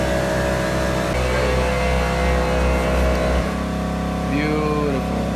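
A kouki Nissan 240SX engine runs with a steady, loud mechanical drone throughout, lifting briefly in a rev toward the end.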